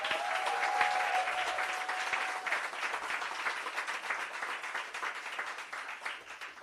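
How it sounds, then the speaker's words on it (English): An audience at a workshop expo claps for the people who pitched, a dense and sustained round of applause that starts full and eases slightly. A brief voice sounds at the start. "Can we give those that pitch a round of applause?"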